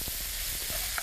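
Vegetables, including bean sprouts, straw mushrooms, snow peas, snow fungus, broccoli, carrot and cauliflower, sizzle in a hot pan while being stir-fried, with a brief bright crackle near the end.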